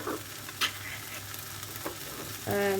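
Softened vegetables for a salsa dip sizzle steadily in a pan, a continuous close hiss broken by a couple of brief clinks and a louder surge of frying near the end.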